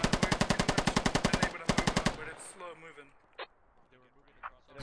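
PKM machine gun firing in a video game, two rapid bursts of loud, evenly spaced shots with a brief gap between them, then fading echoes and scattered distant reports.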